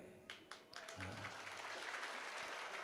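Listeners clap at a Hindi religious discourse by a Jain acharya. A few distinct claps open, then a faint, distant wash of applause continues in a large hall.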